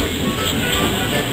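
A small model train at a model railway exhibition rumbles and clatters steadily close by, a continuous rolling rattle.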